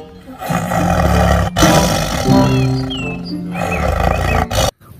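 A toy tiger lets out a loud, sustained electronic roar with growling, rumbling tones that carry for several seconds before cutting off abruptly.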